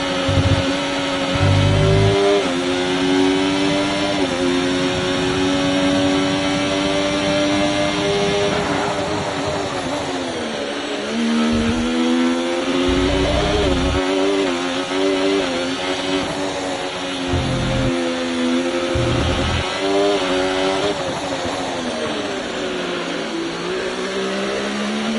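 F1 race cars scream past in the F1 24 video game, their engines rising and falling in pitch as they accelerate and shift, loud and continuous with no talk.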